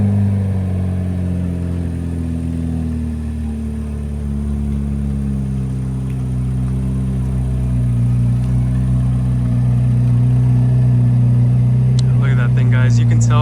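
A 2024 Chevrolet Corvette Z06 with center-exit quad exhausts, its engine holding a steady, loud, deep drone that rises slightly over time, with a voice briefly heard near the end.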